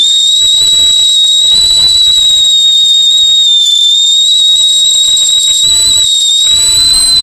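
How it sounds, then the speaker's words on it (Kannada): A milk cooker's whistle sounds as one loud, steady high-pitched tone that holds without a break from start to finish, with faint background noise underneath. "ಸೊ ವಿಸಲ್ ಯಾವ ರೀತಿ ಬರುತ್ತೆ ಅಂತ ತೋರಿಸ್ತೀನಿ"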